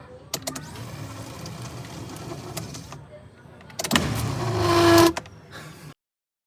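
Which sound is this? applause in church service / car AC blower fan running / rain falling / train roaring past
car AC blower fan running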